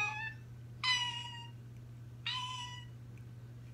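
A person imitates a cat, giving two drawn-out, nasal meows separated by a pause, close and clear over a steady low hum.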